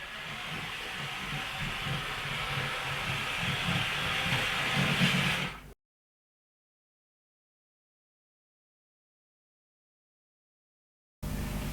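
A 1980s LEGO toy train runs on its track with a steady mechanical rumble and hiss for about six seconds, then cuts to silence before the sound returns briefly at the end.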